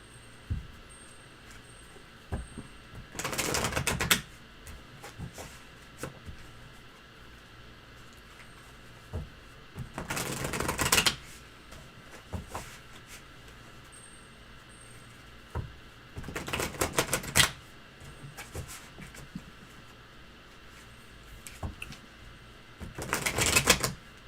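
Several short bursts of rapid riffling as a deck of tarot cards is shuffled, separated by quiet pauses, close and fairly soft.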